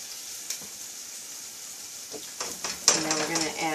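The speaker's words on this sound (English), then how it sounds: "We're just going to saute this a little bit until it starts to smell really good." Garlic sautéing in olive oil in a pan, a soft steady sizzle underneath with a few light clinks and a louder crackling flare near the end as the pan heats up.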